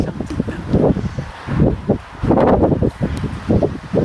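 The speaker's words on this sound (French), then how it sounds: "Ah, c'est un orage venteux, lui." Gusty wind from a violent winter thunderstorm coming off the Atlantic near Montoison, France, in February: close, buffeting rushes and rustling that surge and drop in uneven bursts, loud against the microphone.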